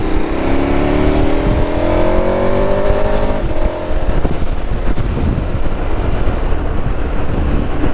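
A 2022 KTM 1290 Super Adventure S motorcycle accelerates hard to overtake, its engine note climbing steadily under heavy wind rush. Buffeting takes over as the bike reaches speed.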